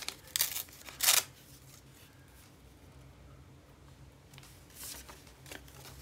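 Paper being torn by hand while gluing pages into a book, in two short, crisp rips close to the listener, followed by faint rustling and quiet handling of the sheet.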